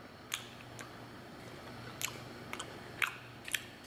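A person chewing a hard dog breath bone treat, with a handful of sharp crunching bites spaced irregularly over a quiet background, close and faint.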